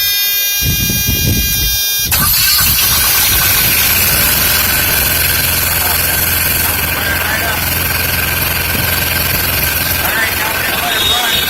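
A Carrier TransiCold APU unit is started up, a brief quiet stretch giving way to a loud, steady engine drone that keeps running at an even idle, close by.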